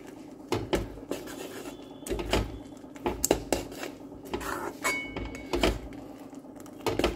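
A pot on a low flame stirred with a utensil, with scattered scrapes, taps and clinks of metal against the pan, fairly quiet and close, in irregular bursts with no talking.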